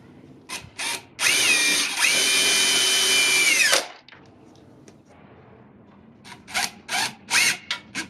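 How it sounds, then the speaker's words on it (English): Drill driving white number 8 by 1 5/8 inch exterior wood screws into a pest guard on beveled siding, one sustained loud whir of about three seconds between short bursts and clicks. "I installed the Pest guard using 4 white number 8 by 1 5/8 inch"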